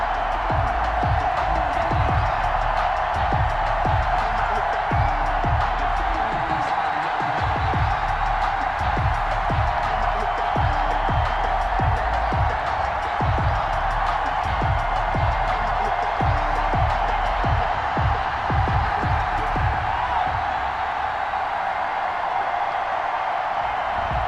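Home stadium crowd at Hard Rock Stadium in Madden NFL 21, Dolphins fans fired up before facing the Buffalo Bills, roars in a steady, dense wash of cheering with scattered claps, unbroken throughout.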